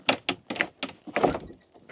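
A frozen cab door on a Bobcat T66 track loader is forced open on an 18-degree morning, a quick series of close cracking, clunking jolts over about two seconds.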